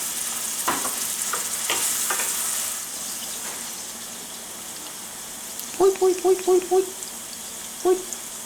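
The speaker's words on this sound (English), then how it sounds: "All this garlic and the mushrooms have sauteed nicely." Garlic and oyster mushrooms sauté in a pan as a low, steady sizzle, broken by a few utensil scrapes early on and then a quick series of sharp knocks near the end.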